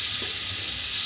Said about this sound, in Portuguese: Ela vai ficando quase prontinho o bacon.